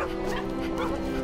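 Chihuahua in the video game Gravity Rush 2 giving a brief couple of high yips over a sustained musical drone, the barks partly blended into the background.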